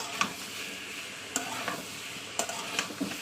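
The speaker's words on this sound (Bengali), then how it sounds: "মশলার সঙ্গে কুমড়ো আলুটাকে কষিয়ে নেবো" Pumpkin and potato sauté with spices in hot oil in a pan for a freshwater prawn curry, a low continuous sizzle punctuated by a few sharp spatula knocks and scrapes.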